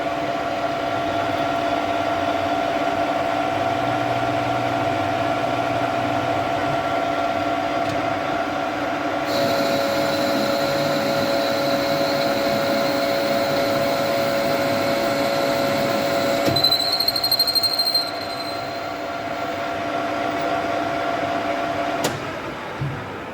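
A lathe with a boring tool cutting an internal hole to 28mm, a steady motor hum with tonal whine, joined midway by a higher cutting tone and a brief shrill squeal near the end.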